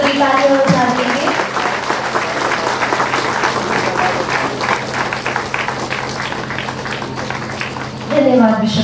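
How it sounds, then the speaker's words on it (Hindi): Sustained audience applause at a golden jubilee celebration of a Mother Teresa leprosy centre, dense continuous clapping from a crowd with voices faintly mixed in, swelling briefly near the end. "सभी तालियां बजाते हैं"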